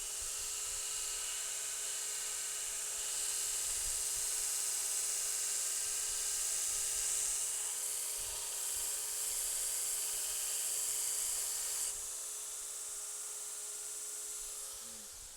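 A grinder works steadily on a hand-forged blade, a continuous high, bright whine that holds nearly unbroken for about fifteen seconds before easing slightly near the end.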